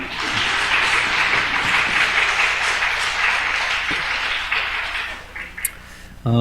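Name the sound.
congregation applause in church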